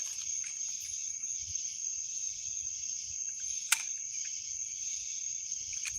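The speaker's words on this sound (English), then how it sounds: "Yep, lots of crickets." Crickets chirp in a constant, shrill high-pitched trill that runs unbroken throughout, with a single sharp click partway through and no talk.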